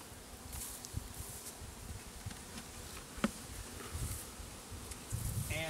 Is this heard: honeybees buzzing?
yes